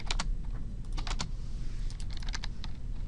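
Computer keyboard keys pressed during 3D polygon modeling, a few close, crisp clicks in quick clusters over a low room hum, with no talking.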